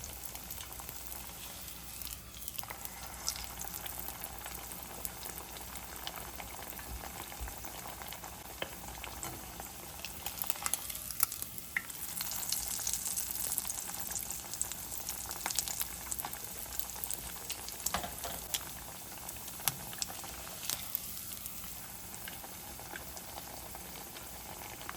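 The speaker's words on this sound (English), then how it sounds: "Now let's deep fry the pork chops on high heat." Pork chops deep frying one at a time in hot oil over high heat, a steady close crackling sizzle that holds at a moderate level throughout, swelling slightly in the middle, with no talk.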